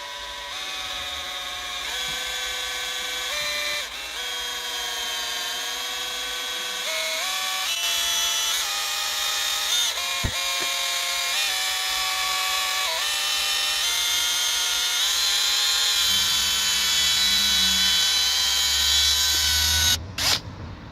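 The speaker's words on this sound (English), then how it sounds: "can you mix it with a bog brush?" A toilet brush is spun to mix something, giving a steady motorised whine that holds for about twenty seconds, rises slightly in pitch, and then cuts off with a few clatters at the end.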